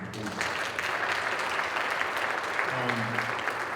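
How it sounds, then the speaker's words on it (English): Audience applause at an MLK Day event, a brief burst of steady clapping throughout a room, with a voice speaking beneath it. "round of applause for them"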